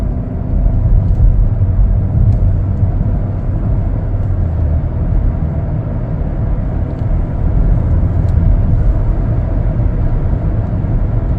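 Steady low road rumble and engine hum from inside a 2024 Chevrolet Blazer 3LT accelerating along the road, a continuous, even drone throughout with no talking.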